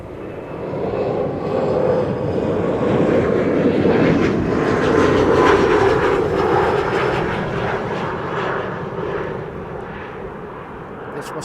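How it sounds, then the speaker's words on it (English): A KLM Embraer 175 jet arriving from Stavanger at frosty Amsterdam Schiphol rumbles by, rising to a loud peak around the middle and fading gradually, alone without voices. "This was KLM flight 1174 arriving from Stavanger. Embraer 175."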